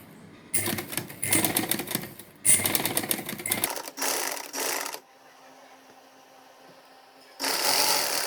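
A sewing machine stitching a frock sleeve, running in loud rapid bursts of whirring needle clatter separated by short pauses and quieter gaps.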